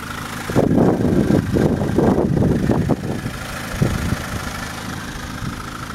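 A 1999 Mazda Protege engine running nearby, with an uneven rumbling idle that pulses through a louder stretch and then settles into a quieter steady hum, with no talking.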